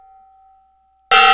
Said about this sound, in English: I'll do a third gong.